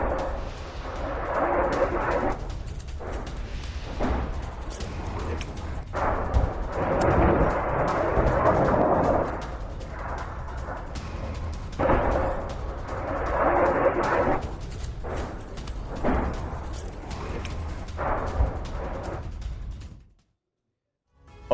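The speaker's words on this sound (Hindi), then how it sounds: "लुहांस्क में रूसी वायुसेना की एयर स्ट्राइक। सोरोकिने क्षेत्र पर रूसी सेना की बमबारी।" Russian air strike bombardment of the Sorokyne area in Luhansk, with repeated booming explosions and rumbling blasts that keep coming in waves and sound loud and fairly close, leaving near silence only at the very end.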